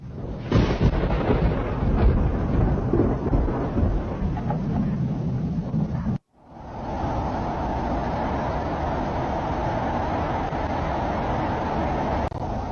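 A heavy rainstorm with thunder pounds Dubai in a dense, loud roar of rain and rumbling. After a brief cut the downpour resumes as a steady, unbroken wash.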